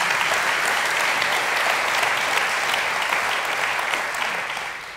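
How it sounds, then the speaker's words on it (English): Loud, sustained clapping from an audience gathered for a pastor's talk, a thick continuous patter of many hands that stays strong throughout and eases off slightly in the final second. "go ahead and clap for that"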